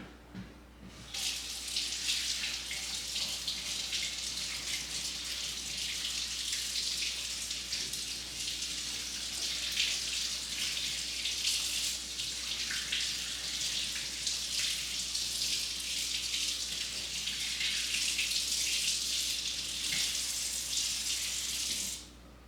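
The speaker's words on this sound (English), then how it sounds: "let me wash my hands first" A kitchen tap runs steadily while someone washes their hands before baking cookies, a constant hissing splash of water into the sink that carries on without a break for about twenty seconds and then cuts off.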